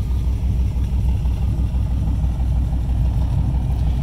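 A 1996 Pontiac Trans Am Ram Air convertible idles close by, its V8 giving a steady deep rumble through a 3-inch exhaust, with no talk over it.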